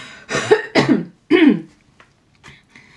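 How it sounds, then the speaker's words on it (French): A woman coughs close up: three rough, chesty bursts in quick succession, followed by a couple of faint throat-clearing sounds and small noises in an otherwise quiet room. "Désolée pour la toux."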